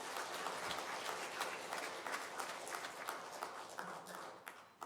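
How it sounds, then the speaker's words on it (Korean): Church congregation applauding after a hymn during a Sunday morning service, a steady dense wash of many hands clapping that holds for the whole stretch before thinning slightly at the end. "다 같이 박수 한번 더 주시겠습니다"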